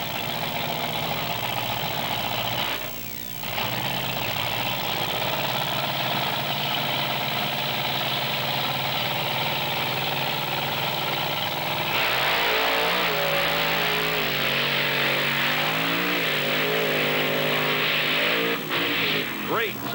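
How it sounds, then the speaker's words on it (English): Monster truck engines idle and rev loudly at the start of a side-by-side race finals at Thunder on the Beach in Wildwood, New Jersey, 1996, swelling into hard acceleration midway, with an announcer talking over the roar. "Great side-by-side monster truck race."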